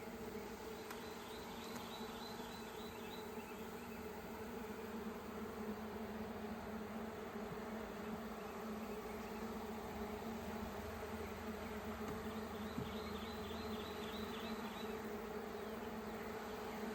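Honey bees buzz continuously in an opened white beehive during an egg check, a dense steady drone of many wings with brief higher flutters standing out now and then, heard alone without talk.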